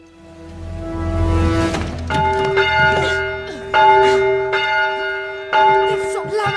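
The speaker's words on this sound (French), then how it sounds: "Fais sonner cette cloche et tu seras mienne." A church bell rings on Christmas Eve, its loud, resonant strikes repeating every second or so while the long metallic hum lingers and overlaps between them.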